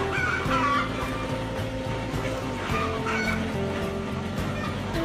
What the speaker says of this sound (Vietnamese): Anh Toàn với việc chăn nuôi 500 con gà